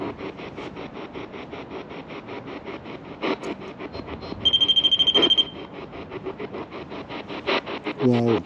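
REM pod ghost-hunting device alarm during a castle investigation, giving a fast run of loud, sharp beeps for about a second midway through, with rustling and a voice around it.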